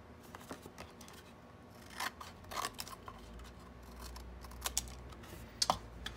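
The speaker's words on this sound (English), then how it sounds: "So I'm just carefully cutting along the folds of each of these" Scissors snip along the folds of a cardboard box's tabs, giving a run of close, quiet cutting clicks and crisp snaps with small rustles between them, heard alone.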